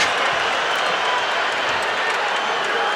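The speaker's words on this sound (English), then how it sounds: "You can hear the crowd react." A large arena crowd at a Jon Jones MMA fight roars and applauds in a dense, continuous wash of cheering and clapping that stays loud and steady throughout.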